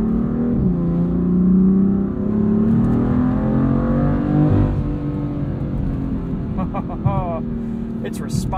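Tuned 2015 BMW M4 with a DCT gearbox accelerating under turbo boost, its engine droning loudly from inside the cabin and rising in pitch, with a shift near the end and a voice speaking over it.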